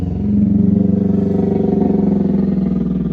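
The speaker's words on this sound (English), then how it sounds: "Neighbor leaving on his motorcycle." A motorcycle engine idles and rumbles loudly nearby with a steady pulsing throb, holding level throughout.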